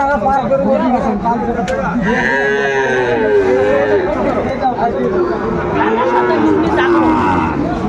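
Sahiwal bulls and calves at a busy livestock market in Brahmanbaria, with drawn-out bovine moos rising and falling over constant crowd chatter and nearby talking voices.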